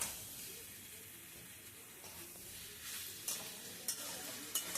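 Spices, including garlic and black cumin, are stirred in hot oil in a pan, making a faint, soft hiss with a few light spoon clicks toward the end.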